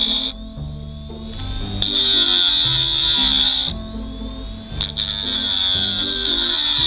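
A homemade grinder built from an old hard drive sharpens a knife, giving a high, thin whine that starts and stops as the blade touches, mixed with a looping musical backing.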